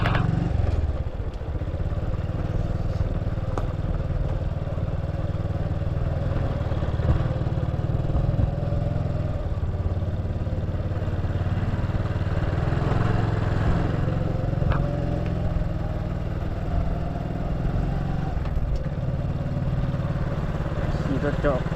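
Motorcycle ridden along roads past village fields, a steady mid-pitched engine hum running throughout with light clatter, someone talking over it at times.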